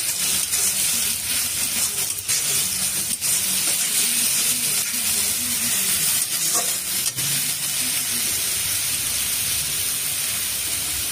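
Chili garlic paste sizzling in a pan with frying onions, a loud, steady hiss and crackle with faint stirring scrapes throughout, close up and without talk.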